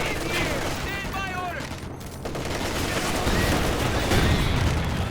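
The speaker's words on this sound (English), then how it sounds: "the machine gun should help suppress this unit here" Company of Heroes 2 battle noise, with dense rattling machine-gun bursts and scattered explosions rolling continuously, while someone talks over the combat.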